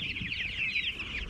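Meat chickens out on grass pasture cluck and chatter continuously in a short, close, fairly loud burst of overlapping calls.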